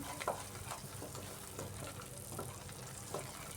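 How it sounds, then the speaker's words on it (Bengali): Spice masala slowly frying on a low flame, a soft continuous sizzle broken by repeated light scrapes and stirs at an uneven rhythm, fairly quiet with no talking. "গ্যাসের আঁচটা কম করে ধীরে ধীরে এইভাবে আমি মশলাটাকে কষাচ্ছি"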